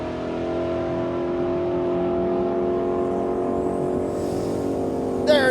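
A gasser drag car makes a pass at Drag Week, its engine note holding loud and steady and climbing in pitch as it accelerates and pulls away, with a brief sharp burst near the end.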